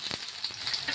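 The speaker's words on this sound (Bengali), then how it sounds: "লঙ্কা কুচি," Chopped green chillies with chopped onion sizzle in mustard oil in a pan, a steady close crackling hiss lasting about a second with no talking.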